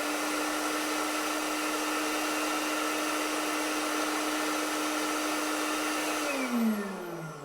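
Ingco 20V cordless leaf blower runs at full speed, a loud, steady whooshing roar with a constant whine that holds for several seconds, then winds down as the motor slows near the end.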